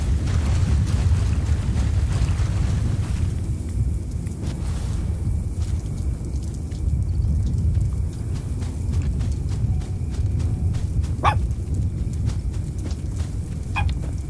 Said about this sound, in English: that queen sounds like a dog